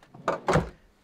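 Drawers in the interior of a 2002 Liberty Prevost XL bus conversion sliding and shutting, heard as two quick, close wooden thuds in a quiet coach.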